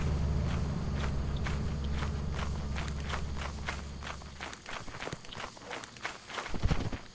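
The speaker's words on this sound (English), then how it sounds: "Not roaring, just large footsteps." Heavy footsteps of a large monster in the video game Lethal Company; a long run of evenly spaced thuds moves along, growing louder and more uneven toward the end, first over a low droning hum.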